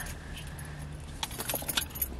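Keys jangle up close in a short burst of bright metallic clinks, following a quiet stretch of faint car-interior background noise.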